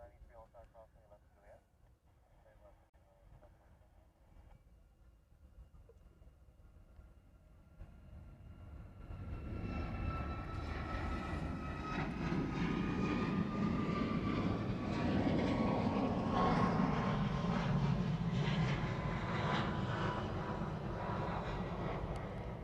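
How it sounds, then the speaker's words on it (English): A Southwest airliner departs Honolulu airport for Kahului, Maui, its jet engines rising from quiet into a loud, sustained roar and whine that builds and holds for many seconds. Voices chat quietly before the roar swells. "This is the Southwest heading off to Kahului, Maui."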